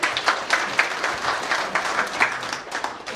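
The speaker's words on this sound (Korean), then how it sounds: "수고 많이 하셨는데 우리 박수 한번 건네합시다" Delegates at a Korean church council's regular general assembly clap together in a moderately loud burst, with individual claps standing out in a loose, rhythmic pattern over the crowd's steady applause.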